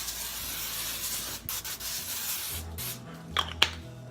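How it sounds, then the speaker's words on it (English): Pam cooking spray hissing onto raw broccoli florets in a kitchen, a steady faint spray lasting several seconds with a few soft knocks near the end. "You just spray it real good."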